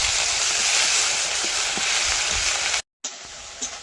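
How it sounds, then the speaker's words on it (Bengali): Onion and garlic paste sizzles steadily in hot oil in a pan for a fish curry, a continuous close hiss that cuts out briefly near the end before resuming. "পেঁয়াজ রসুন ভাজা হয়ে গেছে"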